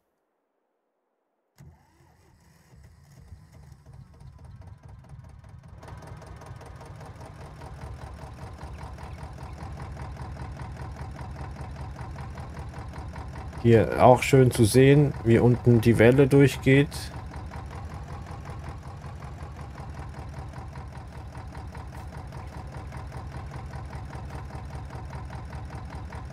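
An old single-cylinder stationary engine runs steadily at a vintage machinery meet in Farming Simulator 22, a low thumping drone that starts up and continues at an even pace, with someone talking over it throughout.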